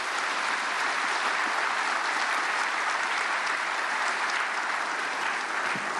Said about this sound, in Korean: 감독회장님 박수로 환영하시겠습니다.